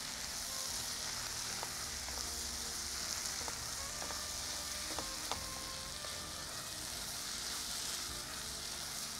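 Dry masala frying in a pan and being stirred, giving a steady soft sizzle with a few faint scrapes and clinks of the spoon, continuous throughout and with no talking.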